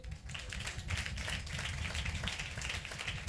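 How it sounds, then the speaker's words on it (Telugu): A church congregation claps hands together in a steady, dense burst of rapid applause, sustained evenly for a few seconds at moderate distance. "చప్పట్లు కొట్టమంటే కొట్టారు."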